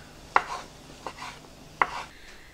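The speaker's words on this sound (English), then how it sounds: "All right, I'm going to finish chopping this up, and then we're going to start making the mixture." A knife chops ham on a cutting board for a macaroni and cheese ham casserole, three distinct close thuds spaced irregularly, with no talking.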